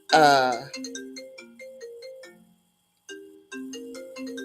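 A mobile phone ringtone plays a bright melodic electronic tune in short repeating phrases after a brief voice at the start, with a pause before the melody resumes.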